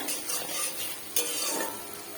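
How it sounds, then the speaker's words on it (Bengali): Masala spice paste sautés in a pan, a steady soft sizzle with scraping stirring strokes and a brief sharper clink partway through, close by and alone. "মশলাটা খুব ভালো মতো কষানো হয়ে গেছে।"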